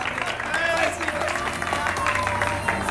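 A group gives a round of applause at an informal tribute gathering for a woman named Rosemeire, steady clapping with crowd noise and voices mingled throughout.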